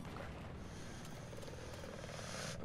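An attack helicopter in Battlefield 4 gameplay flies close by with a steady, loud rotor and engine roar that holds without a break for the whole stretch. No one speaks over it.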